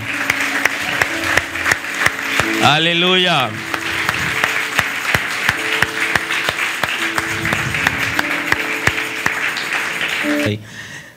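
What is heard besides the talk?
church congregation applause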